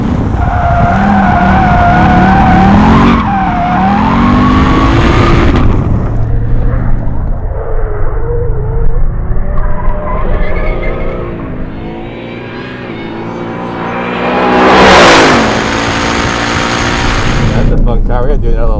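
Hennessey Heritage Edition Mustang driven hard on a track, its engine roaring with shifting pitch as tires squeal and skid, loud and close, with a rising whoosh late and voices talking underneath.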